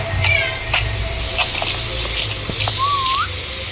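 A few short whistles, one rising and sliding, sound over a low rumble and scattered clicks while playing Roblox 3008.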